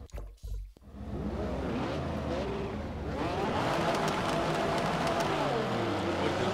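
Engine of an Acura NSX race car at California Highway in Project Cars 2, a steady revving howl that rises and sweeps through gear changes, loud and close, with a brief burst of noise at the start.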